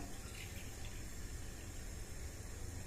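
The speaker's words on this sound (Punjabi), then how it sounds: "ਇਹਦੇ ਵਿੱਚ ਹੁਣ ਪਾਵਾਂਗੇ ਆਪਾਂ ਇੱਕ ਕੋਲਾ ਪਾਣੀ ਦਾ" A bowl of water is poured into a pot to make sugar syrup for laddu, giving a steady, faint, continuous splashing wash with no talking.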